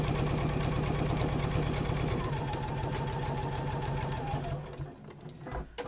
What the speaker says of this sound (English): this bit of top stitching will be seen. So try and get it nice and as neat as you can possibly get